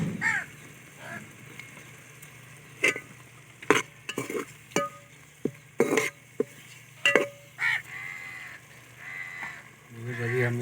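Masala spices are stirred and fried in a pot for chicken pulao, with a spoon scraping and knocking against the pan in irregular strokes over a soft sizzle while someone speaks at times.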